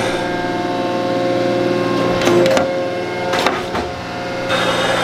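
A wood board is planed on a final light pass with the clamps released, giving a steady machine drone with a few brief rasping bursts mid-pass, close and fairly loud, without talk.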